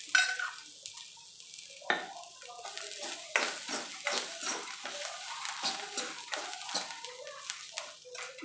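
Onions fry in oil in a pan while a spoon stirs them, giving a soft steady sizzle broken by repeated scraping clinks of utensil on metal, close and fairly loud.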